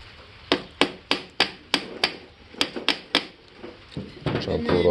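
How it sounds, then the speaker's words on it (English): A hammer taps on an engine part during a 2015 85cc motorcycle top end rebuild, about a dozen sharp, close metallic knocks at an irregular, fairly quick pace, followed by shuffling handling noise. "if it's stuck, gently hit it with a hammer."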